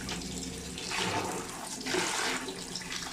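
A strong jet of water sprays and rushes while washing a Channa limbata fish tank, surging loudly in two bursts with a softer splashing flow between them and no talking.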